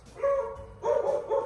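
A dog at an animal shelter gives several loud, close barks, two or three short bursts separated by brief pauses.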